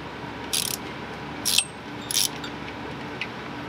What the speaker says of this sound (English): now we have to take the bolts for the alternator off